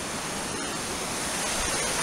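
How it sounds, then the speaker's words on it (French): A small waterfall, a little cascade on Île Hoste, gives off a constant dense hiss of falling water, close and even in level throughout, with no voices. "Petite cascade."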